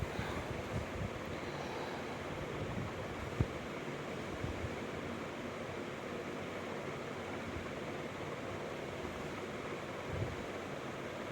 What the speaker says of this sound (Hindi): और झाड़ू लगाएंगे फटाफट